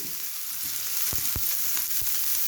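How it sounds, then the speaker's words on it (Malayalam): Onions sautéing with salt in a pan make a steady, close hiss and sizzle, with a few sharp clicks from stirring. No one speaks. "സവാള ഇട്ട് കഴിഞ്ഞാൽ നമ്മൾ കുറച്ച് ഉപ്പിടുക അതുപോലെ അങ്ങനെ ഉപ്പിട്ട് നന്നായി വഴറ്റി"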